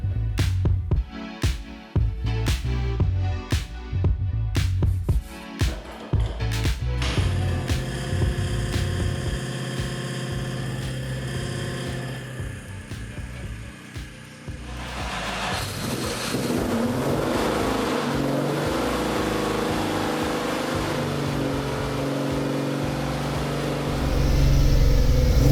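An Aston Martin DB2/4 cranks in a series of sharp, stuttering turns, then catches and settles into a steady idle that swells louder toward the end, close and with nobody talking.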